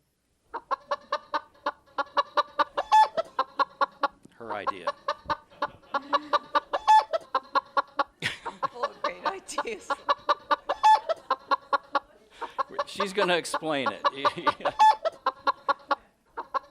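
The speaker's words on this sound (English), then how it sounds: "It's a big chicken." A big pet chicken clucks over and over in quick rhythmic bursts, close by, while people talk over it.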